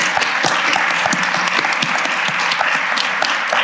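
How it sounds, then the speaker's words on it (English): An audience gives a sustained round of applause at a guest artist lecture, steady dense clapping throughout with no voices over it. "So if we could just have a round of applause."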